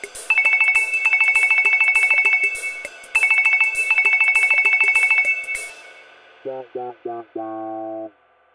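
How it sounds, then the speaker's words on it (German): A mobile phone ringtone from the Pocoyo cartoon, a bright electronic trilling melody in repeated bursts, followed by a few short descending synthetic tones and a brief sustained chord at the end. "Das erste wäre, einen guten Klingelton auszuwählen."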